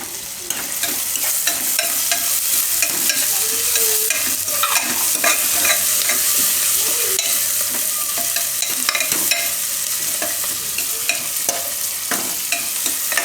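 Onions with turmeric, for a Gujarati corn and potato dish, fry in oil with a loud, steady sizzle while a spoon stirs and scrapes the pan in repeated strokes.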